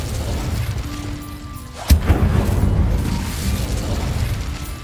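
A fire spell cast in the video game Hogwarts Legacy bursts with one sharp, loud pop near the middle, then trails into a rumbling roar over steady low game noise.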